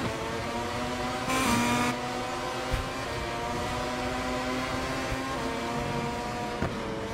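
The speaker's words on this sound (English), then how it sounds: "We're about to complete our first lap as Fernandez finally launched an attack off the inside of Marquez into double final right-hander" MotoGP motorcycles race in the MotoGP 22 video game, their high-pitched engines whining steadily and close, with gear changes and shifting pitch as the bikes carry speed through corners. No one speaks.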